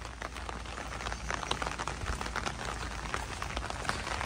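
Rain patters down around date palm trees under a darkening sky, a dense, crackling spray of drops hitting leaves and surfaces, steady and moderately loud with no one speaking.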